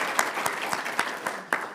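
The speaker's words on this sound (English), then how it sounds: "let's give all of our panelists one more round of applause" Audience applause for a criminal justice panel at an indoor event, a steady patter of many hands clapping together with a few sharper claps standing out, lasting under two seconds with no talk over it.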